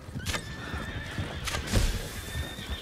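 A horse in the video game Red Dead Online whinnies loudly during a race, with quick clip-clopping hooves running underneath throughout.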